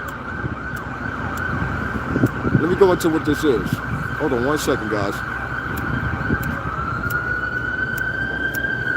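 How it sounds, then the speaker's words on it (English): An ambulance siren passes along a city street, a steady wailing tone running through the clip with a faint sweeping pitch, heard under someone talking to the camera. "First, I got to wait for this ambulance to pass by."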